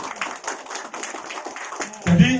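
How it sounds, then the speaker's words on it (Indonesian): An audience at a Milagros business-plan presentation claps in a brief, close burst of rhythmic hand claps that lasts about two seconds, followed by a low-pitched voice or tone at the end. "Tepuk tangan dulu."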